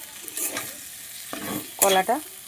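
Raw green banana stirred as it fries in a pan for a vegetarian curry, giving a few short scraping bursts over a soft, steady frying hiss, close and moderately loud, with no talking.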